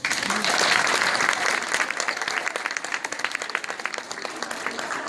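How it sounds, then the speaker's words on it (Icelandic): An audience applauds a couple about to dance a waltz at a morning gathering, with lively clapping that starts full and loud, then thins into more scattered, distinct claps. "gefið þeim gott klapp."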